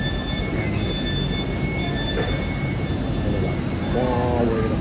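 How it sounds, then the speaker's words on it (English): A large train rolls through a busy station, with a steady rumble, a high wheel squeal near the end, and people talking in the background. "This train is a lovely train."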